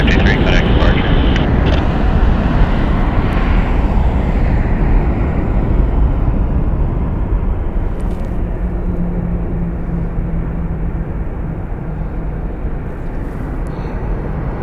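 A Southwest airliner rolls for takeoff at Las Vegas Harry Reid International Airport, a deep broad rumble that gradually eases as it recedes, with a voice speaking over the engine noise.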